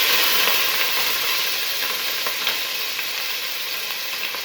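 Dry spices fry in a hot pan for a pakora kadhi, giving a steady, close, bright sizzle that holds even throughout with faint stirring scrapes and no voices.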